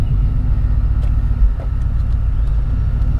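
A supercharged S62 engine in a crashed BMW E39 M5 drones low and steady from inside the car while driving, a constant rumble with no clear revving peaks.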